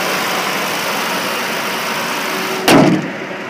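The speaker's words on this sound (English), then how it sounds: "This is a Ford Crown Victoria. And as you see, it starts up." A 2005 Ford Crown Victoria Police Interceptor sits under a steady, loud broadband rumble and hiss, then near the end its engine catches with a brief, sharp surge before settling.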